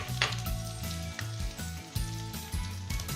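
Garlic fries in oil in a pan, giving a close, continuous sizzle and crackle with a few quick stirring scrapes. No voices.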